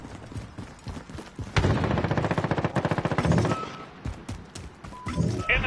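Rapid automatic gunfire from a PS4 multiplayer shooter game, dense bursts of shots in a loud, sustained volley mid-clip, with scattered single shots and game effects before and after.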